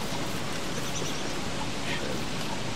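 Steady rain falling in the video game Don't Starve Together, a dense continuous hiss of drops filling the scene, loud and even with no voices.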